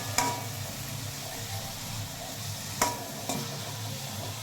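Carrot and beans stir-fried in a pan for fried rice give a quiet, steady sizzle, broken by a few sharp spatula clicks and scrapes against the pan.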